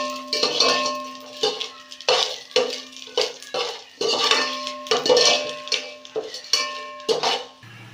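A metal spoon stirs biryani spices in a cooking pot, knocking and scraping against the metal in a quick, irregular series of bright clinks and clanks, close and fairly loud.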